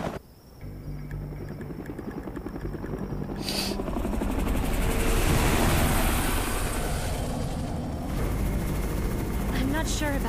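Helicopter in the zombie survival video game Undawn, a steady loud rotor and engine drone that swells and holds throughout, with speech over it.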